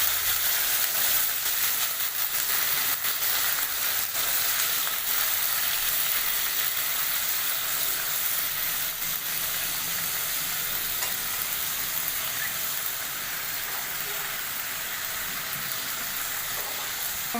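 Potatoes and peas frying with onions in hot oil, a dense continuous sizzle with faint scraping stirs, loud and close throughout with no voices.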